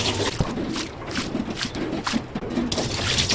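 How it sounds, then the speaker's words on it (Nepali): Soaked rice and urad dal being rinsed by hand in clean water, with close, soft trickling, sloshing and squishing of wet grains that continue throughout. "सफा पानीले यसरी यसलाई धुने"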